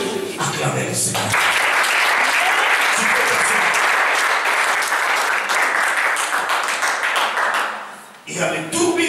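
A church congregation claps and cheers for the Lord in a long, loud, dense wave of applause with voices mixed in, rising sharply and then fading out near the end.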